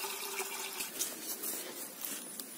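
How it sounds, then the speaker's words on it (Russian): Water runs steadily from a tap into a pot, about two liters, for boiling crayfish outdoors at a dacha near a marsh, faint and continuous with no talk. "Набираем примерно 2 литра воды."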